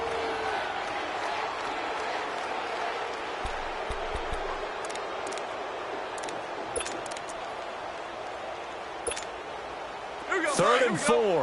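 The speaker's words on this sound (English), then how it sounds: "this crowd urging on their defense. They're up and making noise" A football stadium crowd roars steadily as Rams fans stand and cheer for their defense on third down against the 49ers, a broad continuous din with a swell near the end, under a play-by-play announcer's voice.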